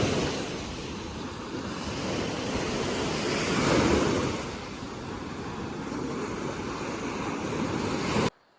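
Waves wash steadily onto a crowded sea beach on a mild day, a continuous broad surf roar that swells once in the middle, with wind rumbling on the microphone and no voices.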